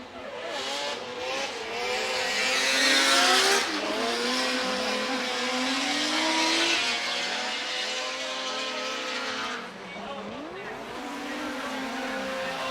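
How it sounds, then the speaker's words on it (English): An SR-powered Nissan S15 battles another car in a Formula Drift Japan event at Sportsland Sugo, engines revving high and wavering with tire squeal as the cars slide past, loud and sustained throughout. "Going to be chasing down number 17 qualifier, car 888 Jamaken in his SR powered S15"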